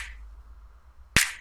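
A single sharp finger-snap sample from an electro pop drum pattern cracks out near the end after a faint fading tone, bright and close, with no talking.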